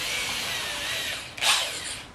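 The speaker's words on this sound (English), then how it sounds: "we have to drill up through the old holes" A power drill whines steadily and close by, drilling up through old holes for T-nuts, its high grinding pitch surging briefly as the bit bites in near the end.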